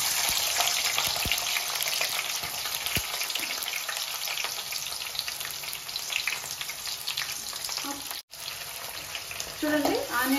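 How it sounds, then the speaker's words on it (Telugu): Onions fry in hot oil for a chicken fry, a dense, continuous sizzle heard up close, with a few light scrapes of stirring and a brief drop near the end. "చూడండి ఆనియన్స్ కొంచెం ఫ్రై అయింది కదా"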